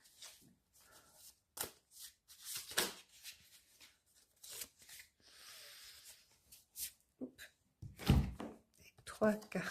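Tarot cards are shuffled and drawn, giving soft riffling bursts and light slaps of cards spaced irregularly, with quiet French speech between them.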